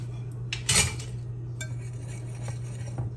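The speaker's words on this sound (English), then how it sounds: "The dry ingredients, I'm just gonna mix them." A utensil stirs dry cornbread ingredients, self-rising cornmeal and flour, in a bowl, giving a few soft scraping clinks against the dish, faint and close over a steady low electrical hum.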